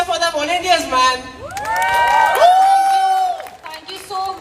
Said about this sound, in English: Everyone, please cheer for the volunteers